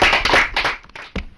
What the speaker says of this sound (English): A round of applause for them again, please.